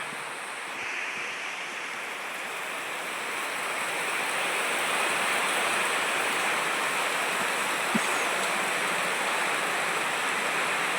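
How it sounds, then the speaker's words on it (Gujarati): Heavy night rain pours down in a continuous rushing hiss, growing a little louder partway through and holding steady, with no voices. "જો મિત્રો ફૂલ વરસાદ થઈ ગયો ચાલુ"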